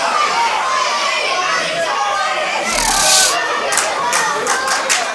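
A British pro wrestling show crowd at Blizzard Brawl 4 rumbles and jeers throughout, a steady mass of voices with a louder swell midway and a few sharp claps or slaps near the end, under indistinct chatter.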